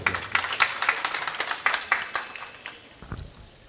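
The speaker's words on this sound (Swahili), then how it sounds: "nataka mumpigie makofi kidogo" Applause from the audience at a graduation ceremony at an Islamic teachers' training college: a few hands clap in a loose, steady rhythm that thins out and stops, with no voices over it.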